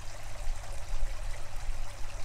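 Water trickles from a pond's trickle feed in a steady, close, bubbling stream with a low rumble beneath it and no voices.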